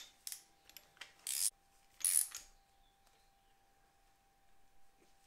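A ratchet tightens a spark plug in a Mazda RX-8 rotary engine, giving a few faint clicks followed by two short, louder ratcheting bursts, close by and otherwise quiet.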